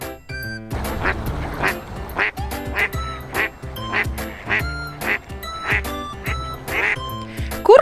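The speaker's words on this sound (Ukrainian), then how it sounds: "Качка крякає. Кря-кря." A duck quacks repeatedly in a steady rhythm over a plinking musical backing, each quack short and nasal, close and clear.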